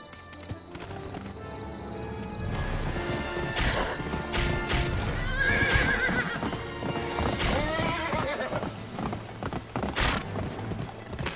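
In the Western video game GUN, a horse whinnies loudly while hooves clip-clop in quick, uneven beats, mixed with sharp crashing hits.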